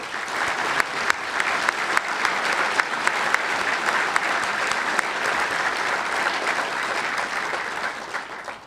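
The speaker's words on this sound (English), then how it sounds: "Please join me in a round of applause for all of our Sheriff's Advisory Council members." An audience gives a long round of applause for members of a Sheriff's Advisory Council, a full, even wash of clapping with a few sharper individual claps standing out, loud and continuous throughout.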